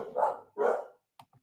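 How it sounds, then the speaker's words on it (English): A dog gives two loud, close barks in a row, followed by a couple of faint short yips trailing off into quiet. "Damn, the dog's going on."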